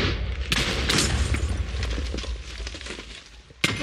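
TNT blasts in a Minecraft Mineplex minigame where players hurl explosives between two islands, heard as muffled booms and rumbling with scattered sharp pops, ending in one louder crack.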